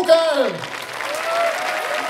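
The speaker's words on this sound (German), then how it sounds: "bitte nochmal einen Applaus wie ganz am Anfang für Kolja van Buchel" Applause from a science slam audience in Karlsruhe for a slammer, a steady wash of clapping that follows a brief voice at the start and holds fairly loud to the end.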